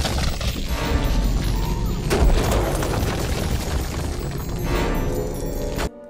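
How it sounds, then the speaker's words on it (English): Meditation chamber roof caving in within Star Wars Jedi Academy, a dense sustained rumble of crashing debris and booms lasting several seconds before cutting off abruptly. "Jaden throws his lightsaber into the ceiling of the meditation chamber, causing the roof to cave in"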